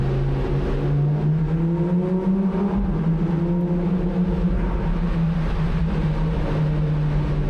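Lamborghini Performante Spyder in corsa mode accelerating hard, loud close engine roar with rising pitch through gear changes, continuous throughout with no talking.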